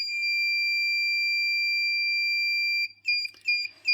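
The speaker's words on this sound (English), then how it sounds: "we should get the buzzer in the red" A steady, loud electronic tone holds for nearly three seconds, then cuts off into a few short, broken beeps.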